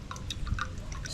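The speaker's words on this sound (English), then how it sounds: "That's a lot of coconut water in that guy right there." Coconut water drips and trickles out of a freshly opened coconut outdoors in Jamaica, a faint run of small wet drops over quiet background.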